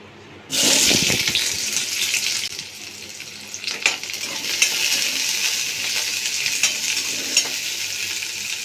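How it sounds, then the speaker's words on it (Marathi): Chopped onions drop into hot oil in a pan and burst into a loud sizzle, which settles into a steady frying hiss broken by occasional crackles and stirring scrapes. "आपण कांदा फ्राय करून घेणार आहोत"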